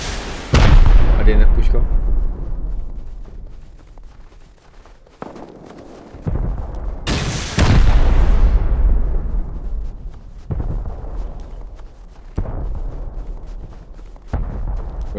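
Gunfire and C4 explosions in the survival video game Rust: heavy booming blasts with long decaying rumbles, followed by repeated loud shots and bursts, while a player talks over the action.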